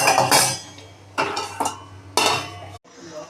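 A lid going onto a cooking pot of sojne data aloo posto curry: a few close metallic clanks and clinks, with short bursts of rattling, then a final clunk as it settles into place.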